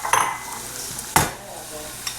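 A spoon stirs oats in a pan in a few close scrapes and clinks, a sharp knock near the middle, over a low background hiss, with no talk.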